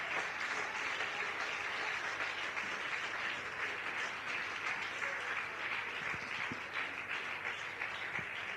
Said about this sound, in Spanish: Que el aplauso sea para Cristo.